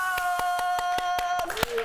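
A group of people clapping in a quick, even rhythm of about eight sharp claps, loud and close over a sustained tonal hum, on a morning show celebrating the Washington Nationals' World Series win.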